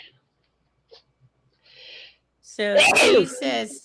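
A sudden loud sneeze bursts out near the end during a casual crochet live chat, preceded by faint murmurs and light background noise, with a voice speaking right around it.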